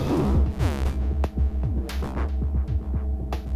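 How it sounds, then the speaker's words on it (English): A low synthetic hum from a frozen sound on a Chase Bliss Lossy guitar pedal with Eurorack modular synths drones steadily, pulsing with rhythmic throbs and a few swept tonal flourishes layered on top. "So we kind of just get a low hum."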